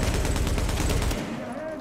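A rapid burst from an M249 light machine gun in The Division hammers out fast, evenly spaced shots, loud and close, then cuts off abruptly into a faint tail.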